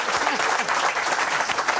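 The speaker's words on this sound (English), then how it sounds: "I'll hold for applause." Loud, close audience applause and cheering at a live golf equipment event, a dense wash of clapping filling the short stretch without a break.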